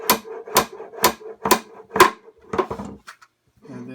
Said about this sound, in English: I'm just going to hammer these right in.